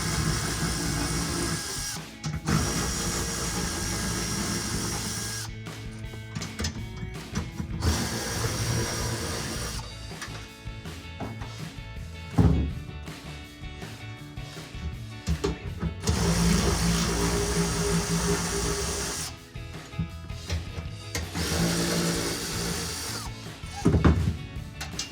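A ratchet with a 14mm socket removes bolts from the center under-seat brackets of a 2014-2021 Toyota Tundra, giving close, repeated mechanical clicking in long runs broken by short pauses and occasional clanks.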